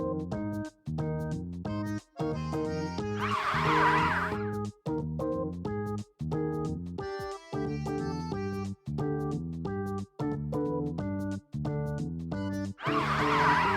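A toy fire truck plays a loud electronic siren sweep alongside a bouncy synthesized tune, with the rising-and-falling wail bursting out twice over the repeating jingle.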